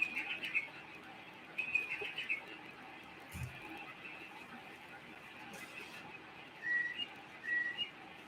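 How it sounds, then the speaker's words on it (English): A bird sound machine plays birdsong, giving faint whistled chirps and short tweets in scattered clusters over soft background hiss, with a brief low thump partway through. "Oh, you can hear the birds in the background."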